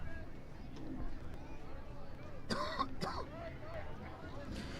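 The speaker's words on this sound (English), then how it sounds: "Pardon my cough" A single throaty cough rings out briefly amid a murmuring crowd in the stands at a high school football game, followed by a second short cough.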